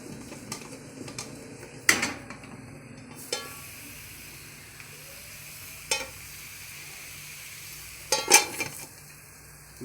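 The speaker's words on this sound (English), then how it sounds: "You cover your sufuria with the lid and you just agitate to make sure they are mixed up properly." A lidded sufuria of potatoes and onions sizzles softly on the heat while being shaken, with a few sharp metallic knocks and rattles of the pot and lid scattered over a quiet, steady frying hiss.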